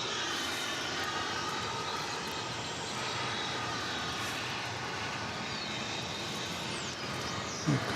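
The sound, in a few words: airplane approaching to land on runway 18 right at DFW Airport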